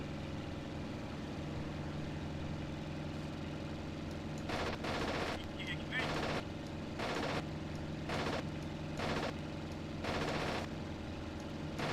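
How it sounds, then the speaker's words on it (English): Aircraft machine gun fire in the flight combat game IL-2 Sturmovik, from an A6M5 Zero: about six short, sharp rattling bursts at fairly even intervals over a steady engine drone. "Just trying to fire some bullets at him to put him off."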